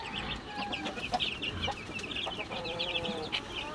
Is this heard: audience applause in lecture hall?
no